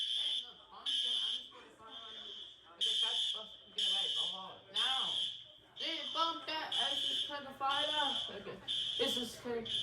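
A school fire alarm sounds during a drill, loud repeated electronic buzzing blasts in a steady on-off rhythm, with people talking and calling out over and between the bursts.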